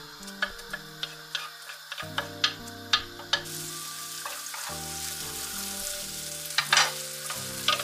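Oil heating in a pan for frying peppers with beef for a Turkish guest meal, with a steady background sizzle broken by sharp clicks and taps of utensils against the pan, near and fairly quiet, with background music throughout.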